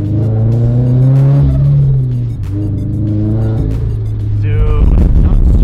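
A turbocharged Subaru BRZ engine revs loud and close, its pitch climbing and dropping through repeated throttle blips, with brief talk over it.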